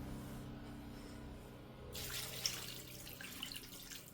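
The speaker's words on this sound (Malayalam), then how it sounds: "ആവശ്യത്തിനുള്ള വെള്ളം ഒഴിച്ച്" Water poured into a cooking pot while making a stir-fried vegetable dish, a running splash that starts halfway through and continues steadily, close, with quiet hum before it.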